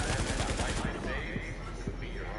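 Sniper gunfire in a multiplayer shooter video game during a global event, heard as a rapid run of sharp, close shots over busy in-game background noise.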